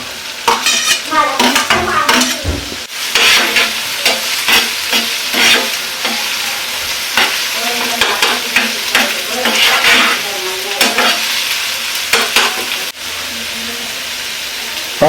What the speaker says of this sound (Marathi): टाकून टाकतो त्याला कांदा टोमॅटो मस्त भाजून घेऊ